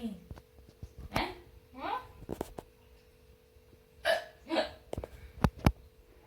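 A person has a long bout of hiccups, a series of sharp, close hiccups at irregular intervals with quiet gaps and brief breathy sounds between them.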